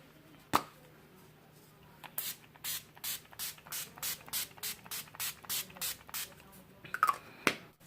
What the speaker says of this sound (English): I'm just going to be setting my face using the Urban Decay All Nighter Makeup Setting Spray